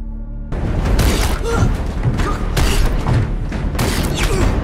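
A spaceship is destroyed in an episode of The Expanse: a loud, sustained, broadband explosive roar with rumbling bursts and crackling debris-like hits that stays dense and heavy throughout, with no speech.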